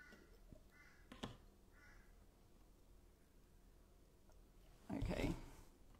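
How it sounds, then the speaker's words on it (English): A crow caws outdoors, a couple of harsh calls in the distance, faint against a quiet room with soft background noise and occasional handling sounds. "That one's a crow, so"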